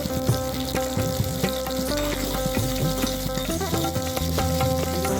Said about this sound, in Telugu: 1/2 స్పూను జీలకర్ర, కొద్దిగా ఉల్లిగడ్డ ముక్కలు వేసి కాసేపు వేగనివ్వాలి.